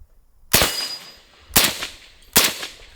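Three sharp supersonic 5.56 AR rifle shots ring out on steel targets, each crack followed by a metallic clang, spaced about a second apart and loud against a quiet range.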